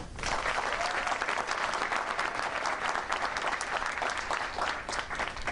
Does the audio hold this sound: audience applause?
yes